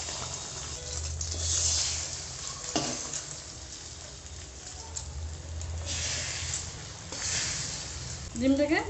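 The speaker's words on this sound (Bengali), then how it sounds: "ডিমটাকে ভেজে একদম ঝুড়ি ঝুড়ি করে ভেঙে নেব দোকানের মতো।" An egg fries in about a spoonful of oil in a well-heated wok, a continuous close sizzle with stirring scrapes, and a voice talks over it at times.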